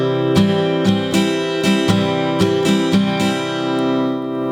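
Acoustic guitar strummed in a common rock and pop pattern, a steady series of down and up strokes with sharp chord attacks ringing out alone at moderate volume.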